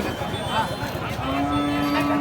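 A cow at a rural cattle market moos in one long, steady, close call over a background of crowd murmur.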